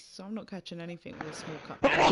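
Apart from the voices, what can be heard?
sneeze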